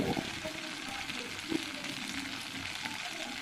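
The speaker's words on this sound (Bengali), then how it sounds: "তো একসাথে মশলাটা আমি ভালোভাবে সাঁতলে নেব।" Ginger-cumin paste and spices sautéing in hot oil for a vegetarian khichuri, a soft continuous sizzle with a few faint stirring scrapes, fairly quiet.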